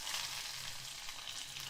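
Peanuts and a medium onion fry in a pan with a quiet, steady crackling sizzle, heard alone with no talking.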